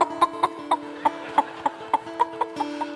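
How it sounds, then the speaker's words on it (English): Chickens cluck in a regular series of short, sharp calls, about a dozen evenly spaced over a steady background tone, close and without talk. "I hear the sounds of chickens."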